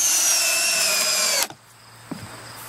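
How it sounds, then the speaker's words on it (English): A cordless drill drives screws into a wooden raft frame, whining steadily at high speed before cutting off abruptly, followed by a couple of faint clicks and knocks. "With a cordless drill."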